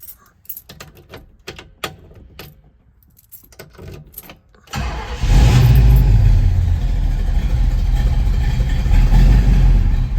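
A 1967 Pontiac Firebird's 400 cubic inch V8 cranks with rapid clattering starter ticks, then catches and settles into a loud, deep, steady rumbling idle with slight revving swells, close by and without talk.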